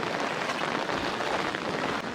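Steady rain falls during flooding in Jaffna, a dense, even hiss of drops on surfaces and water that stays constant and fairly loud for the whole stretch, with no voices.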